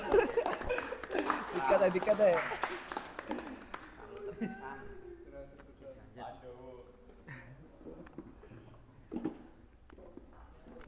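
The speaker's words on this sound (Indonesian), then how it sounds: "Tepuk tangan." An audience at an Indonesian pondok (Islamic boarding school) gathering bursts into lively clapping mixed with laughter for a few seconds, then it dies down as people talk.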